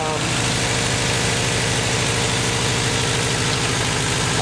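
A 1991 Toyota truck engine with new spark plugs, ignition wires and fuel filter idles steadily and close up, a continuous even rumble with a regular low pulsing throb.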